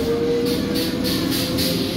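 Up Howrah–Katwa local passenger train moving along the line, a steady close rumble with rhythmic wheel clatter every half-second and a high metallic squeal near the start.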